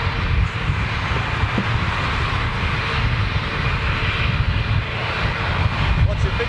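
A jet airliner's engines give a loud, continuous roar with steady broadband rumble throughout, with a person talking faintly underneath.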